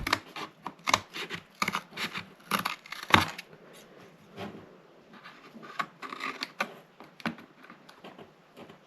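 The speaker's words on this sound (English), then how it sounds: "I'm going to go in with my scissors and just cut that off." Scissors snip through paper in a series of sharp, crisp cuts, close up, irregular rhythm with short pauses and soft rustling between.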